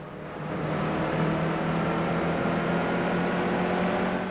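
Race trucks in the NASCAR Heat 2 video game at New Hampshire, a steady, loud engine drone held at constant revs with no pauses, with no talk over it.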